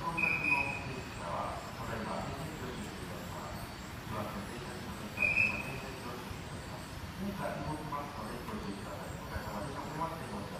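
A Narita Express train passes through Shin-Koiwa station on track 4, giving a sustained rolling rumble with brief high-pitched whistle or squeal bursts, while platform announcements play over the noise.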